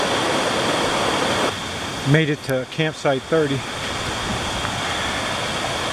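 Steady rushing of a creek flowing over rocks on the Little River Trail in the Great Smoky Mountains, broadband and constant throughout, with someone briefly speaking over the water partway through.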